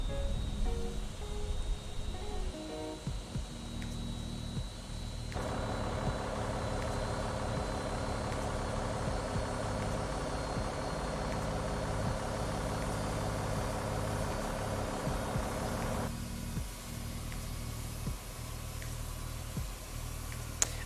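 A cargo jet engine spooling up in a flight simulator, a steady low rumble that jumps to a louder, fuller roar midway, then eases back to a lower drone.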